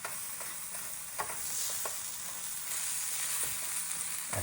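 Tomato paste frying in a pan for chicken tikka masala, a close steady sizzle broken by clicks and scrapes of stirring, with no voices.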